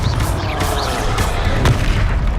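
Confringo fire spell blasting in the video game Hogwarts Legacy: loud, dense booming detonations with crackling bursts, rolling continuously through a noisy combat scene.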